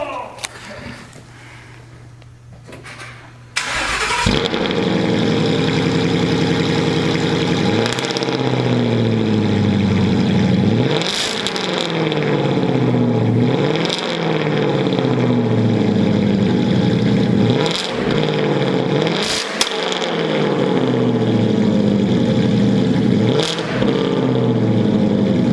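A BMW E36 or E46 engine cranks and fires after a few quiet seconds, then settles into a loud, close idle broken by about six sharp throttle blips that rise and fall at a steady pace.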